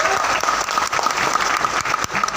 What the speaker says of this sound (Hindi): मिस्टर संतोष जी को एक बार जोरदार ताली से धन्यवाद।